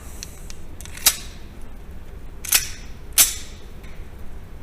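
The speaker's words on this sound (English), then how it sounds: "First rounds. Remington R51. Atlanta Arms, 115 grain. 5 shots." A Remington R51 pistol fires Atlanta Arms 115 grain rounds: three sharp reports with irregular gaps stand out over quiet outdoor background noise, and no one speaks.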